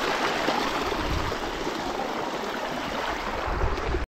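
Steady rushing water of a stream being crossed at a hidden spot in Jammu, a continuous broadband wash close by with no talk, cutting off abruptly at the end.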